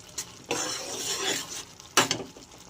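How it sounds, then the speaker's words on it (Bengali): Egg curry with tadka spices and a pinch of shahi garam masala is stirred in a pan, giving two short bursts of scraping and light sizzling, one longer in the middle and one brief near the end. "এটাকে নিয়ে আমি ভালো করে নেড়ে চেড়ে নেব"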